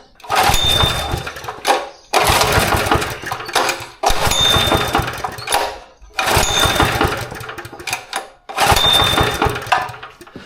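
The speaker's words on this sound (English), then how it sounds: "we can turn it over now and see what our compression's like" A small engine with a compression gauge fitted cranks over in five long bursts of about two seconds each, loud and close, with brief pauses between pulls and no talking.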